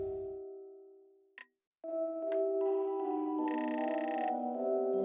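A telephone rings in the video game The Doll Beneath: sustained electronic tones start, break off for a brief silence, then return as a fuller, steady ringing.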